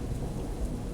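Steady rain pours down outside a store in the Big Bad Dogs game, with thunder rumbling low beneath a constant wash of rainfall throughout the short stretch.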